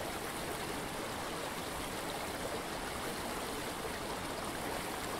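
The River Tummel flows steadily along its banks in Scotland, a continuous broadband rush of moving water that stays even and close throughout with no voices.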